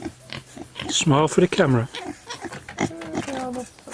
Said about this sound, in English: Nasty little beggars of pigs if they want to be